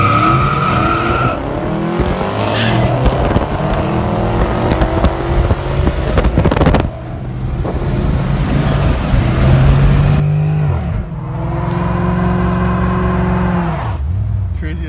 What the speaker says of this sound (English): Craziest burnout. Too much torque.